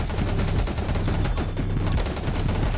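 Rapid, continuous weapon fire in the survival shooter 20 Minutes Till Dawn, a dense rattling stream of shots heard up close and loud throughout, with no talking.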